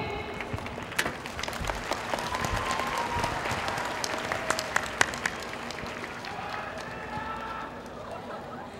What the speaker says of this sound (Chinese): 让我们用热烈掌声欢迎